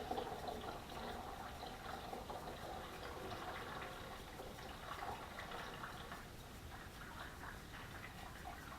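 Homemade deep red wine from a kit, pouring steadily into a container, a continuous close liquid gush with no talk.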